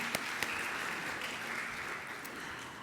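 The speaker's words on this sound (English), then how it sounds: "Let's welcome him to the stage with a big round of applause." A conference audience at the ICAP CFO Conference Middle East 2016 applauds steadily for about three seconds, with a moderately distant, even wash of claps and a few sharper individual claps near the start.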